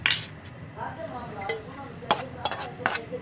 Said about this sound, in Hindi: अब हम इसके अंदर चिकन ऐड करेंगे।